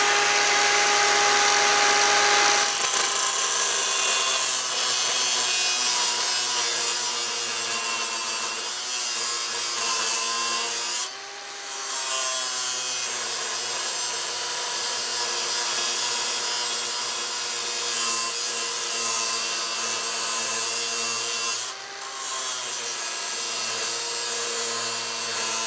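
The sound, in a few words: Milwaukee cordless grinder cutting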